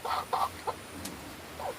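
A few short clucks from a chicken, close by, in quick bursts with brief gaps between them, followed by a softer cluck near the end.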